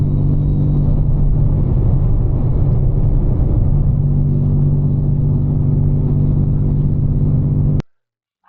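BMW M4 driving at night, heard from inside as a steady loud engine drone and road rumble that holds constant for nearly eight seconds, then cuts off abruptly into silence.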